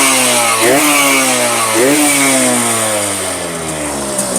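A 1996 R-Racing two-stroke motorcycle with separate oil injection and a BRT carburettor idles loudly up close, blipped twice into sharp revs before settling back to a steady idle.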